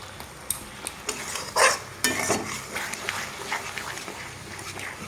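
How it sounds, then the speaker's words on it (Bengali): Spice masala fries in a pan for a vegetarian paneer dish, with scattered scraping and clinking of a spoon against the pan over a low sizzle, close and fairly quiet. "তো মশলাটাকে আমি ভালোভাবে ভেজে নেব"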